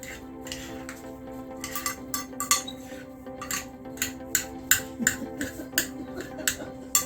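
Utensil clinks and scrapes against a bowl as sticky rice is mixed with coconut milk for mango sticky rice, a steady run of sharp taps and knocks over a faint room background, with no talk.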